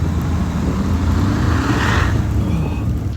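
A modified Porsche Cayenne Turbo 4.8 with a suspension lift kit and off-road tyres accelerates hard across grass, its loud, close engine roar holding steady and dense throughout.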